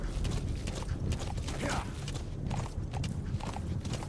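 Horse hooves clip-clop in a quick galloping rhythm in Metal Gear Solid V, steady and close across the whole stretch alongside game mechanism noise.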